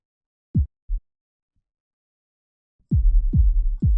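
A booming reverb tail in music production: deep low-end hits with a resonant tail, two short thumps, a pause, then a sustained series of heavy bass booms.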